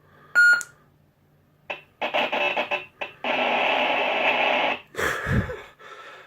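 A Korbanth DV6 lightsaber running the Aggression sound font gives a few startup beeps, then an ignition, a loud crackling hum and a clash-like burst, close and alone.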